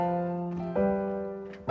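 A plain chord progression without extensions played on a keyboard-like instrument, two or three sustained chords changing in quick succession, close and clean, with no talking over it.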